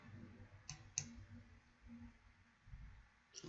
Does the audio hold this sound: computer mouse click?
yes